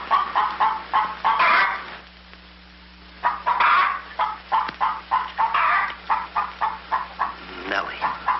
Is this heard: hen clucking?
yes